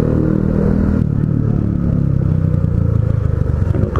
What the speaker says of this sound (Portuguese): O engraçado é que na bizinha, mano, fica um som forte.